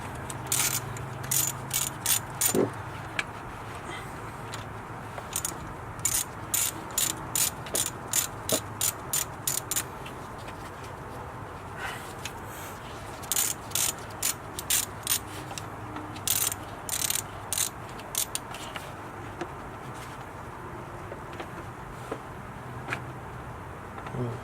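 Ratchet clicking while tightening alternator bolts on a 2005-2009 Ford Mustang GT, in quick bursts of sharp pawl clicks separated by short pauses, close and clear with no talk.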